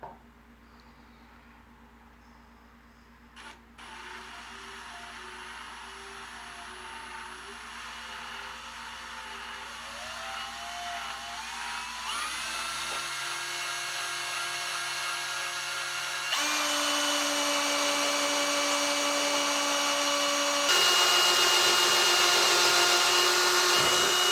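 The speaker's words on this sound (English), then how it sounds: "Let's chuck it up and drill a hole in there and see." A power drill whines steadily, its pitch rising and shifting as it bores slowly into a metal tool cart, growing louder and harsher over a long continuous stretch.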